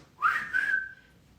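A single person whistles a short rising-then-sustained tune, one clear whistled phrase lasting about a second, close and alone with no talk.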